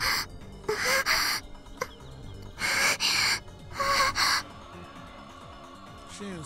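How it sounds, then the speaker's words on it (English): Video game character panting, several sharp breathy gasps in short bursts, loud and close, with brief pauses between them over quiet game background tones. "She didn't say oh no, she was just panting."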